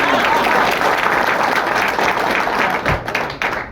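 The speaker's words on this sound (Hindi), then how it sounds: "जोरदार तालियां होनी चाहिए।" Loud audience applause at a leadership training session, close and vigorous clapping from a crowd that thins into scattered claps and a few thumps near the end.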